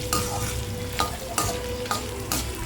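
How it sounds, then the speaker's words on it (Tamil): Whole spices such as fennel, cinnamon, cardamom and cloves roasting in a pan on low flame, a soft continuous sizzle broken by several scraping stirs at roughly half-second to second intervals. "சோம்பு பட்டை ஏலக்காய் கிராம்பு எல்லாமே போட்டு லோ சிம்மில் வச்சு பொறுமையாக எல்லாத்தையுமே நம்ம வறுக்கணும்"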